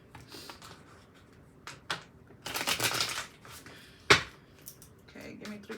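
Tarot cards shuffled by hand during a reading, with soft riffling bursts, a dense flurry in the middle and a sharp snap near the end, faint room noise around them.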